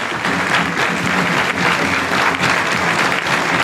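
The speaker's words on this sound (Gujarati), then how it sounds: "ઉભા થકા જોરદાર ફરી ફરી તાળીઓ વગાડીશું" A devotional assembly crowd at a temple festival gathering stands and claps loudly, dense continuous applause filling the hall without a break.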